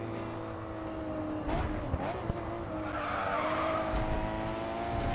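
Race car in the GRID 2 video game skidding through a corner at Yas Marina, a steady engine drone with tire squeal rising midway and continuing loudly to the end, no talk.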